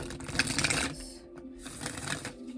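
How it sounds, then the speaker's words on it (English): Oracle cards from an angels and ancestors deck being shuffled by hand off camera, a dense run of crisp papery riffling flutters that pauses briefly midway, then resumes, close and fairly quiet with no talk. "Now, I am shuffling the cards"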